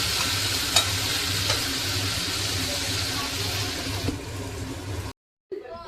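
Chicken curry with onion is sautéed and stirred in a pan, giving a close, continuous sizzle broken by scraping stirs, then a brief cut to silence followed by a faint return of sound.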